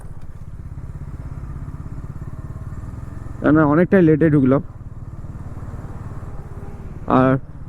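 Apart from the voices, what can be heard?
motorcycles idling at toll plaza, Bajaj Dominar and NS 400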